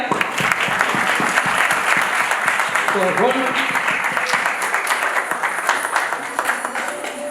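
Loud, sustained applause from a crowd of guests at a wedding ceremony, dense clapping filling the whole clip, with voices mixed in.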